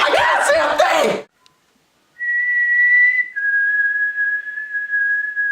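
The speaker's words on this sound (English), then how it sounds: "The whistle." A shrill whistle is blown in two sustained blasts, the second longer and slightly lower, following a burst of excited voices and a brief silence.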